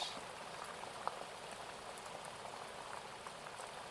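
Steady rain falls without a break, a soft hiss of dense drops on surfaces with a few isolated louder drips, even and unhurried throughout with no voices.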